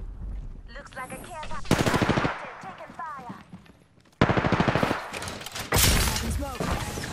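Rapid automatic gunfire from the video game Apex Legends, in loud close bursts separated by short pauses, with game voice lines and other effects mixed in.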